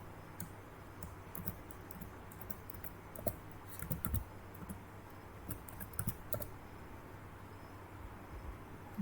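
Someone types an email into a sign-up form on a computer keyboard, producing quiet, close, irregular bursts of key clicks with short pauses between them.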